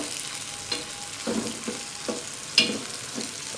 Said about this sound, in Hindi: जस्ट इनको सौते करना है बस।